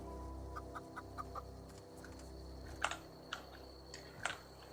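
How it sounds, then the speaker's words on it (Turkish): Chickens cluck in short, soft bursts in The Outer Worlds video game, with a few louder clucks later over a steady low background hum. "tavuk var"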